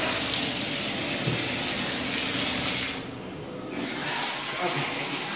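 A bathtub shower runs through its diverter, water hissing steadily and close, with a brief dip in the spray partway through.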